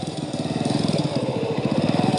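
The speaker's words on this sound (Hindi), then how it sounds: "राहुल अपनी बाइक मोड़कर आयशा के ऑफिस के नीचे पहुंचता है" A motorcycle engine runs close by in a Hindi horror story, a rough, rapid pulsing putter that holds steady and loud throughout with no speech over it.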